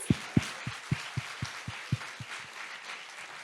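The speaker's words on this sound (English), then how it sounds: "A round of applause." At a welcome ceremony for an international leaders' gathering in Seville, a few loud, distinct claps ring out in a quick regular rhythm against lighter scattered clapping, then trail off into a thin fading patter.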